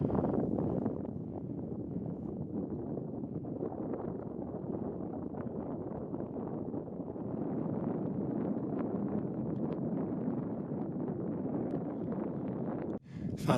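Wind buffets the microphone at a high mountain saddle on San Luis Peak in Colorado, a continuous low rumbling roar that stays steady and fairly loud.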